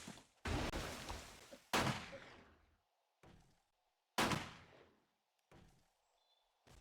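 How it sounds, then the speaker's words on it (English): Gunshots in the zombie survival game 7 Days to Die, about five or six sharp, loud blasts spaced a second or so apart, each trailing off in a short ringing decay with near silence between. "Why is it that when I join back, all I hear is gunshots?"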